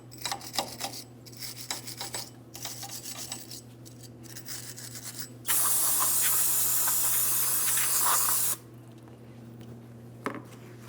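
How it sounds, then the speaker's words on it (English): Parts cleaner sprayed onto a 2007-2014 Ford Edge wheel hub mating surface, followed by wire brushing: a loud, steady hiss of spray in the middle, with scratchy rasping scrubs before and after it, close up and without talk. "Use some parts cleaner and a wire brush as necessary."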